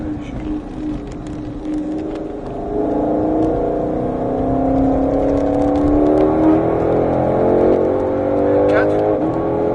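A 2021 Mustang GT500 slows on the Folembray race circuit, its engine note dropping and droning steadily through downshifts under a loud cabin hum, with a voice speaking over it.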